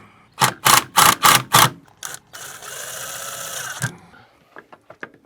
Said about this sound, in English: I'm gonna set these 2 screws into the hardware and let me know how the alignment looks.